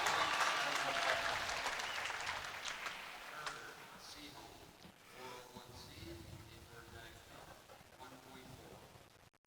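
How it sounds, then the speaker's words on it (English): A crowd applauds and cheers at a boys' high school swim and dive meet, loud and dense at first, then fading into echoing indoor pool noise with speech over it. "Crowd is going wild."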